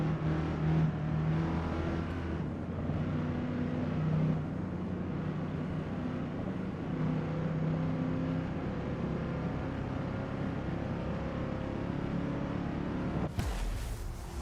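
Steady 302 V8 car engine drone in a racing video game, shifting revs, mid-level and continuous, ending in a brief sharp burst of noise.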